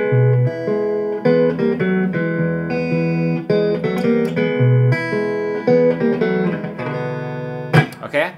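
A clean electric guitar plays a four-bar blues riff in E in a steady shuffle rhythm, clear and close, ending with a quick scrape of the strings.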